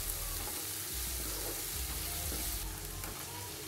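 Onions sautéing in a pan for paruppu upma make a steady, close frying hiss with low rumbling underneath and a slight brightening toward the end, no speech.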